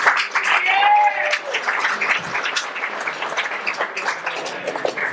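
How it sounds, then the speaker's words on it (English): A conference audience applauds a speaker with a dense burst of clapping that lasts several seconds, while voices and cheering rise above it near the start. "Applause for Dusty."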